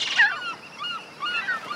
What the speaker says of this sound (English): Seagulls are predators of baby sea turtles.